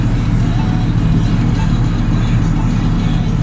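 Constant low rumble of a turbocharged car rolling down the road, heard from the cabin as a dense, even drone with no voices.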